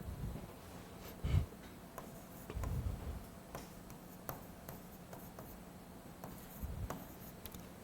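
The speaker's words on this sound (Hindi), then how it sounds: "मैं अपने मन से किसी का नाम ना पाली भाषा में लिख रहा हूँ ना" A pen scratches across paper while a name is written in Pali script, with soft, irregular close strokes and taps broken by brief pauses, quiet and with no talking.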